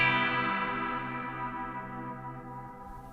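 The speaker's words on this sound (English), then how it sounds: "We can hear those tails just pitch shifting a tiny little bit." Sustained, slightly detuned delay tails from a Strymon Timeline pedal with pitch-shifting modulation, a dense shimmering wash of repeats slowly fading over a few seconds, with no voice over it.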